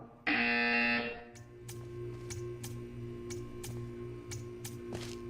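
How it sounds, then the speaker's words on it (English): A buzzer in the video game Portal 2 gives one loud, harsh, steady electronic blare for about a second, then stops, leaving a low hum and a few faint, evenly spaced ticks. "You will hear a buzzer. When you hear the buzzer, stare at the art."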